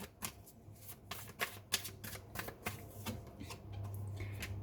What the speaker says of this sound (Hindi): ये अभी जो मैं कार्ड्स निकाल रही हूँ ये आपके वर्क के लिए है।